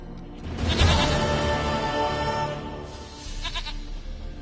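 A goat bleats in The Witcher 3: Wild Hunt, a close, loud bleat near the start over steady game ambience, then a quieter second call toward the end.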